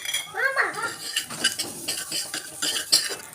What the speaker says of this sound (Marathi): आता आपण या ड्रायफ्रूट्स टाकून घेऊ म्हणजे ड्रायफ्रूट्स पण चांगले तुपात भाजले जातील